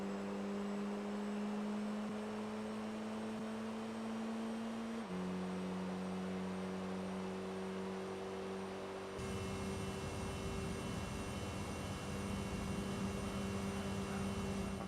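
Corvette C5R race car engine in Gran Turismo 3 holding a steady high-revving drone near the red line, stepping down in pitch at gear changes, fairly faint and continuous without talk.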